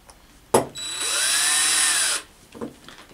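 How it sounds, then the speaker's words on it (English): One short burst of a power driver runs screws into a waterproof IP68 LED neon flex connector, pressing its plastic and gasket against an aluminum block. The whine rises and holds for about two seconds between a few faint clicks. "continue tightening alternately from corner to corner, pulling the gasket tighter and tighter to the material"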